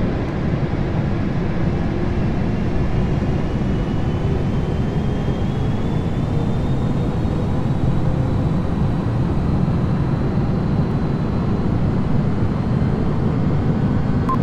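Inside an airplane cockpit on approach to Palm Beach, a steady, loud broadband roar of engine and airflow fills the cabin without a break, with a faint tone slowly rising through it.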